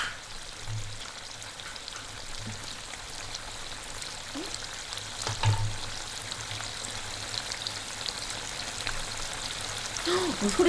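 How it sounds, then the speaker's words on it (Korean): Shrimp butter stew sizzles and bubbles quietly in a pan throughout, a soft crackling texture with occasional low thumps and brief background sounds. "와, 지글지글, 보글보글"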